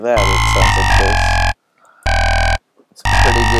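A glass preset synth note from Logic Pro 9, loud sustained buzzy harmonic tones played in three separate held bursts with short silences between them.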